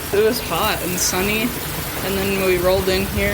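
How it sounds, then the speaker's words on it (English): Heavy rain driven sideways by strong wind pours down continuously, a dense hiss running beneath a person talking throughout. "it's raining really hard and the wind is blowing in sideways"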